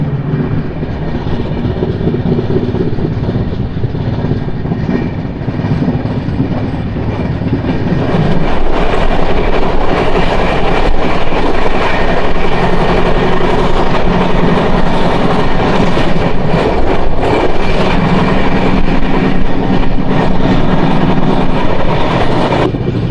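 Tirumala Express, a long-distance Indian passenger train hauled by a WDG4 diesel locomotive, running on the rails with a steady, loud interior rumble and rolling wheel noise that strengthens partway through, without speech.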